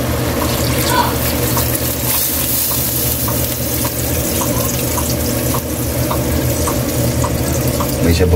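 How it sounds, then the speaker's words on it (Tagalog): Water poured into a cooking pot of corn for beef nilaga, a continuous splashing rush that runs the whole way with faint repeated clinks over it and no talk. "Lagyan natin ng tubig yan, Kaili."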